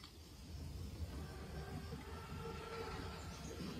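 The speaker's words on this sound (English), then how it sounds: "Train's right on time. Biggest train I've ever seen." An armoured train in Call of Duty: WWII rumbles steadily past, a loud continuous low rolling roar with metallic wheel hum and faint screeching tones, no talk over it.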